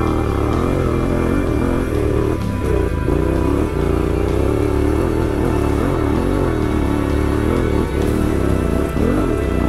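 A Yamaha T7 motorcycle ridden hard on an enduro trail at night, its engine droning loud and close throughout, with steady mid-range roar and revs rising and dipping as it climbs.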